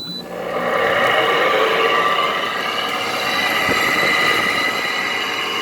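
A steady mechanical whir with a broad hiss comes up after a short start and keeps running evenly and loudly close by: a Frigidaire window air conditioner with a Toshiba compressor and a Welling fan motor.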